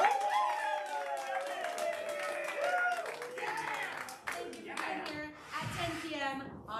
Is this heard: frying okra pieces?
no